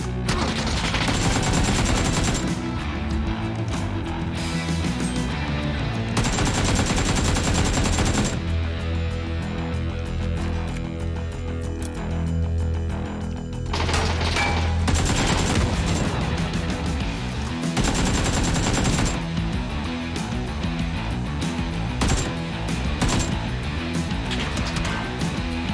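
Sustained automatic rifle fire in a battle-royale shooter game, AKM sprays and other gunshots crackling in loud rapid bursts with brief pauses, dense and close throughout.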